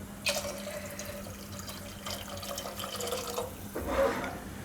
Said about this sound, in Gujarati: તો હજી આમાં પાણી આપણે નાખી દઉં